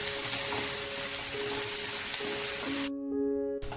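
A spice paste with dried red chillies and cashews sautés in a pan, giving a steady, close sizzle and crackle with faint stirring. The sizzle cuts off abruptly near the end.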